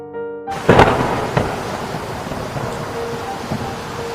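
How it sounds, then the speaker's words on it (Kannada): Thunder cracks and rolls over steady pouring rain in a storm scene from a cartoon story, with a sharp loud onset after a quiet start, then rumbling and a constant wash of rain. "ಆ ರಾತ್ರಿ ಬಿರುಗಾಳಿ ಬೀಸಿತು ಮಳೆ ಸುರಿಯಿತು"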